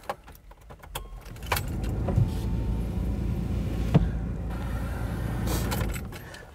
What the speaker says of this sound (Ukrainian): тепер уже усі вікна в автомобілі я закрив